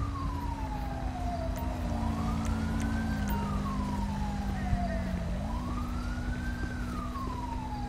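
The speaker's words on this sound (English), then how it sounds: "here comes the ambulance again" Ambulance siren in GTA V with the LSPDFR police mod, a steady wailing tone sweeping slowly up and down over a constant low engine drone, loud and continuous throughout.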